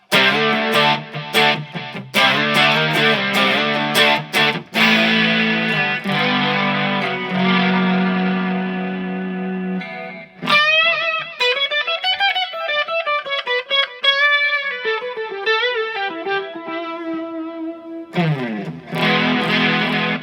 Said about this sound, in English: there's some delay, like a chorusy kind of effect on there